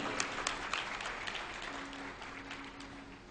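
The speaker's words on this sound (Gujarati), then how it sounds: "એકવાર સ્વામીને તાળીઓથી વધાવી લઈએ." An audience claps steadily to welcome a Swami at a Swaminarayan katha gathering, a dense, even wash of applause with a faint tonal hum underneath.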